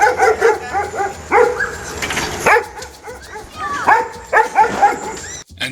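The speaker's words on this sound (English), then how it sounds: "here he is leaving Villa Kunterbunt with an escort of barking dogs" Several dogs bark and yip over and over in an outdoor street scene in Valparaiso as a motorcycle rider leaves. The barking is loud and close, with whimpers mixed in, and people talk throughout.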